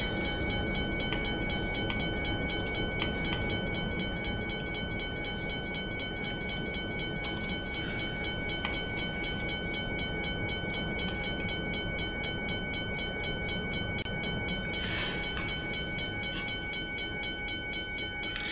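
An EMD F7 diesel locomotive runs in a train-driving video game, a continuous low engine rumble with rhythmic wheel clatter and faint horn tones, steady and close throughout, no voices.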